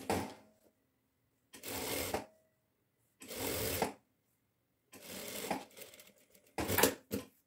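A home sewing machine stitches a narrow folded hem on a shirt-dress cuff in five separate short runs. Each run is a close, busy whirr of about a second, with quiet pauses between.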